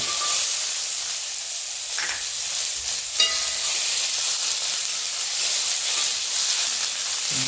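Washed, still-wet garlic fries in half a spoon of hot oil, giving a loud, continuous close-up sizzle and hiss with a few brief sharper crackles, and no voices.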